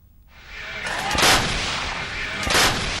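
Artillery cannons firing in Azerbaijani combat footage from the Armenia conflict, two heavy booming blasts about a second apart rising over a sustained roar of rumbling background noise.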